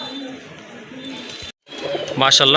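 Rajgolla desi pigeons, a big-sized feather-footed pair, give low cooing sounds close by, with a brief break before the calls grow louder; people talk over them.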